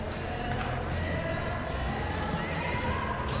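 A stadium crowd in the football video game PES 21 cheers at a Manchester City versus Crystal Palace Premier League match, a dense continuous roar with occasional louder surges, with no talk over it.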